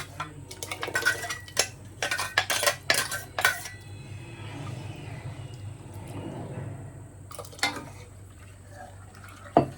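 Blender jar rinsed with water and the water poured into a pot of banana stem soup in a kitchen: sharp clinks and clatters of steel vessels in bursts, then a softer watery pour and sloshing, with a final clank.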